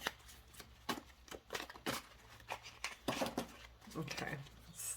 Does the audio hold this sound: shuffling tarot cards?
yes